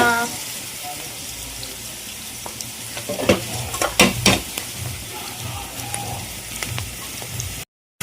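Onions frying in a pan for chicken keema sambar: a steady background sizzle with scattered clinks and scrapes of stirring, a few sharper knocks near the middle, no talk.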